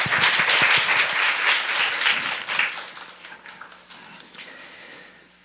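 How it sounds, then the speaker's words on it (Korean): A church congregation at a Friday prayer meeting claps warmly to welcome a speaker. Dense, loud applause fills the first few seconds, then thins and fades to a few scattered claps. "나오실 때 우리 뜨거운 박수로 맞아주시면 감사하겠습니다"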